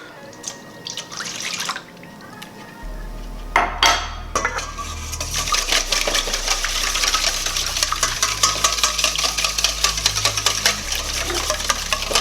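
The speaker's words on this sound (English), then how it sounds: "I'm gonna beat this till it's mixed well" Eggs and a cup of milk being beaten in a bowl for fried chicken batter, with quick rhythmic clinking of a utensil against the bowl and liquid sloshing, steady and close.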